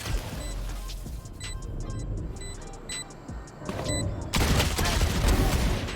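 Gunfire in the Valorant video game, with several sharp bursts of shots crackling over a busy game soundscape and growing louder and denser toward the end.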